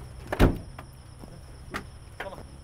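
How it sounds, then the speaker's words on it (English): A van's engine bay lid shuts with one sharp thud early on, followed by a few fainter knocks and rattles against a quiet background. "And let's close the engine bay."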